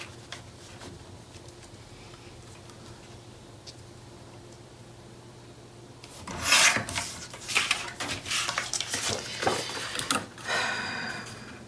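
Paper piece being trimmed for a mini album page, quiet at first, then close rough rasping and rubbing strokes in irregular bursts through the second half, alone without talk.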